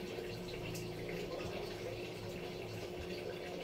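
Water gushing under pressure from a tap, a steady loud rushing and splashing stream that holds constant without pause.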